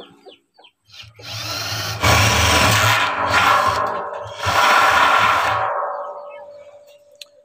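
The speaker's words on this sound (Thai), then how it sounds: "เจาะรูประมาณนี้นะครับเจาะรอบถังเลยนะครับเจาะรอบประมาณสัก20รูก็ได้นะครับ" A power drill bores holes around a metal barrel being made into a biochar kiln, with two loud sustained drilling bursts separated by short pauses, then winding down to quiet.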